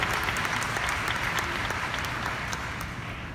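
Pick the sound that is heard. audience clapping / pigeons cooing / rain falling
audience clapping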